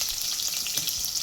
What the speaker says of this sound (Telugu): ఇట్లా ఆనియన్స్ మంచిగా గోల్డెన్ కలర్ వచ్చేంత వరకు అయితే వేయించుకోవాలి